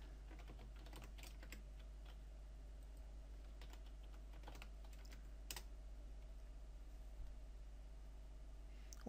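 Keys clatter quietly on a computer keyboard in a run of light, irregular strokes, with a sharper single press standing out partway through.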